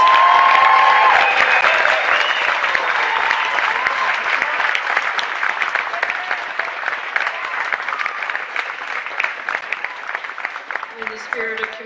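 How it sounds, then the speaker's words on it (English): Commencement crowd applauding the graduates at a university ceremony, a loud, sustained wash of clapping from a large audience that thins slightly toward the end. "Let's have a big round of applause for these graduates."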